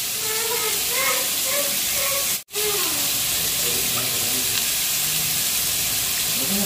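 Sardines and sayote (chayote) sizzling and frying steadily in a pan, a loud continuous hiss with a brief break as a lid or stir interrupts; a person talks over it.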